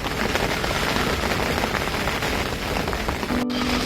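Steady rain patters on surfaces beside a carp fishing syndicate lake in South Wales, a dense close wash of drops with a brief click near the end.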